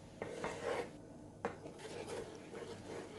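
Sautéed peppers with salt and black pepper are stirred in a pan, a quiet scraping of the utensil with a couple of sharper clinks against the metal.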